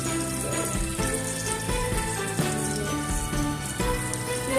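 Bacon sizzles steadily in a frying pan, a close, continuous crackle and spatter with faint clinks, no one speaking.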